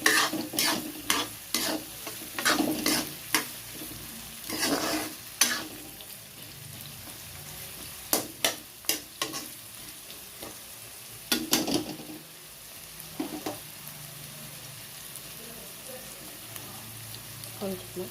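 Mutton fry crackles in a pan with dried red chillies, a steady low sizzle broken by irregular bursts of sharp spatula scrapes and stirring clatter, close and fairly loud.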